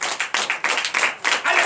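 A church congregation claps in acclamation at a Sunday service in Comè, Benin, giving a burst of quick, fairly close hand claps with uneven rhythm that swells and dips over a second or two.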